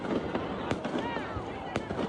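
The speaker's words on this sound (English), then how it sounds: "who brought the fireworks and stuff?" Fireworks crackle and pop amid a rowdy, booze-fuelled street crowd of fans, with two sharp bursts standing out over constant crowd noise and shouting voices.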